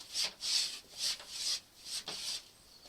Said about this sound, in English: We take our blade. You know what this is called? What? Stropping.